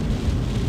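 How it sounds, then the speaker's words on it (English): Heavy rain heard while driving through the Jordan countryside on a freezing day, a dense steady roar of rain and road noise filling the brief moment, loud and close with no talking. "where it's pissing down with rain"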